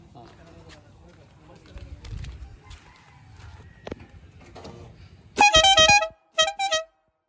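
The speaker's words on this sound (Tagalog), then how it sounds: "Pwede ma-sound check natin yung musical horn na yan." Low talk and background noise give way to the loud, tuneful musical horn of an old jeepney playing a short melodic phrase, then a second brief burst.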